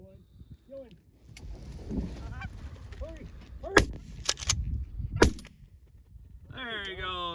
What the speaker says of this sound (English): Real good shot, Pepper.